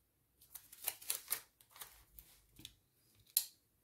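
Scissors snip through paper for a wellness journal, making a series of short, crisp cuts in an irregular rhythm, close and fairly quiet, with a sharper final snip.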